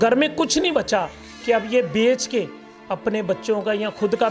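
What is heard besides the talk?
No everyday noises stand out.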